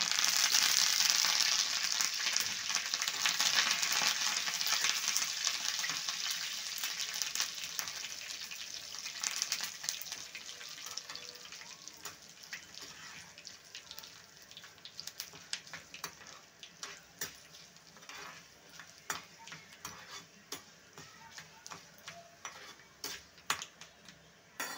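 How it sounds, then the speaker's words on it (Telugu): Garlic, chana dal, urad dal, mustard seeds and dried red chillies fry in hot oil for a tempering, sizzling loudly at first and then settling, while a spoon stirs and scrapes the pan in frequent clinks. "శనగపప్పు, మినపప్పు, ఆవాలు ఇవి ఉన్నాయి కదండి, పోపులు, మెంతులు, జీలకర్ర, ఎండుమిరపకాయలు ఇవి వేసుకొని బాగా ఫ్రై చేసేసుకోవాలి"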